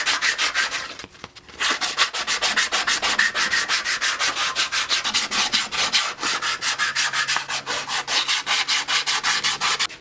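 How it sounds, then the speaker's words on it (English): A wooden fishing lure, a popper, is sanded by hand in quick back-and-forth strokes, a close, regular rasping rhythm that pauses briefly near the start and then continues steadily without talk. "I'm going to go back to hand sanding."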